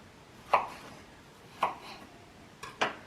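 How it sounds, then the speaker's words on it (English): A knife slices through spring onion on a board, three crisp chopping thuds spaced about a second apart, close and distinct over quiet background. "Cutting this in half."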